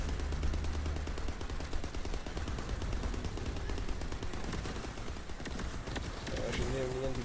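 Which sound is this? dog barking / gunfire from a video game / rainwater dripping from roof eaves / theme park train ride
gunfire from a video game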